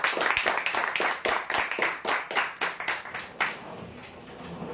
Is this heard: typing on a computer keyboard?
no